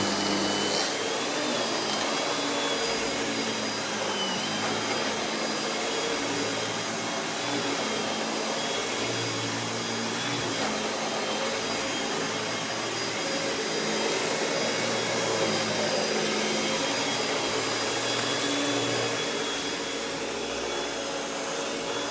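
A Hoover Windtunnel Anniversary Edition S3670 canister vacuum runs continuously with a steady, whooshing motor whine and airflow, loud and unchanging throughout.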